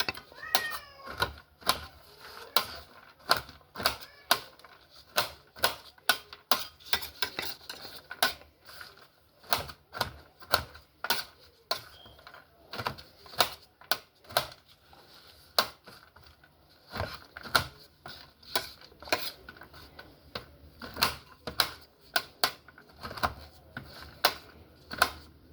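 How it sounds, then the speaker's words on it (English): A large knife cuts through a tray of fudgy brownies, striking the board in steady, sharp, close taps over and over. A cat meows faintly near the start. "So I got my bigger knife out to cut this up."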